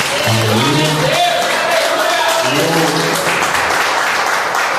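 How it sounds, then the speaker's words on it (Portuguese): A church congregation applauds during an evening healing service, steady loud clapping from a crowd filling the space, while voices rise in song or exclamation over the top. "Você que pode, glorifique, pode aplaudir a Jesus nesta noite."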